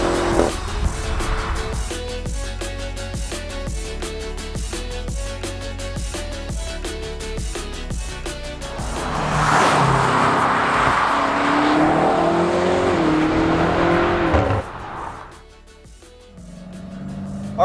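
A 2021 BMW M8 Competition Gran Coupe driving and accelerating, engine pitch climbing through several gears with rapid shifts, then a louder surging run, a sudden drop and a quiet pause.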